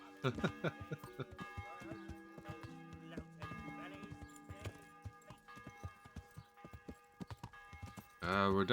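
A horse is ridden in the video game Kingdom Come Deliverance. Rhythmic hoofbeats clop under background music, with a short burst of noise near the end.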